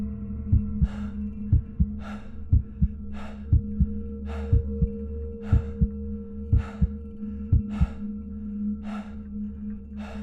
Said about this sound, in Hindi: दिल की धड़कन उसके कानों में गूंजने लगी।